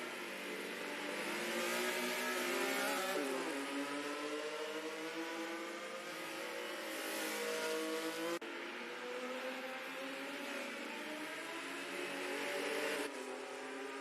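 Race car engines in a virtual racing game, a sustained high revving whine that rises and falls through gear changes, with several cars overlapping steadily and no talk.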